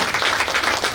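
An audience at a Pune foundation's media conference and journalists' gathering bursts into dense, loud applause, a continuous wash of many hands clapping throughout the brief moment.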